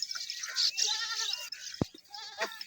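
Desi goats on a Punjab village farm bleat in short, high wavering calls, several overlapping cries close by with a brief knock partway through.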